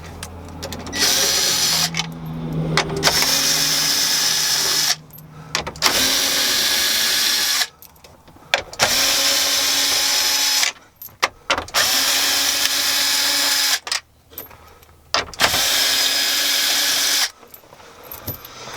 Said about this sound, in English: So I use a little impact driver, 8mm socket.